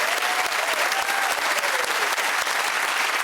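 Studio audience applause on a comedy panel game show, dense sustained clapping at an even, loud level throughout.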